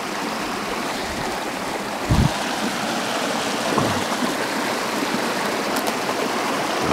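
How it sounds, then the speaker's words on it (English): A small creek flowing through a narrow channel under overcast skies with light rain, giving a steady, close wash of running water throughout, with a couple of brief low knocks along the way. "that's a nice little channel for a creek"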